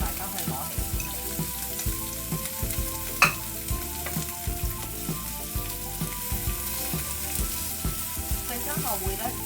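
Pork spare ribs pan-frying in a wok give a steady, dense sizzle with light stirring and occasional clinks, close and continuous throughout with no voices.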